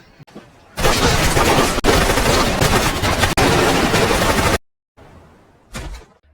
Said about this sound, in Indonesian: Meskipun pada akhirnya Pablo harus tewas atas insiden baku tembak tersebut.